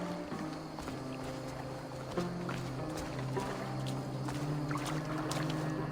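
Rowing a boat on water in Assassin's Creed Valhalla: soft rhythmic oar strokes and gentle splashing over a low drone of ambient game sound, with no talking.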